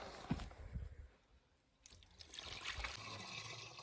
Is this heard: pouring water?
yes